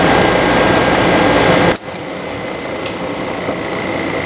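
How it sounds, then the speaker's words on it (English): A refrigerant recovery machine runs with a steady, loud mechanical hum; a broadband roar from a second unit cuts off abruptly early on, leaving the compressor droning alone. "I'm going to let the recovery machine run."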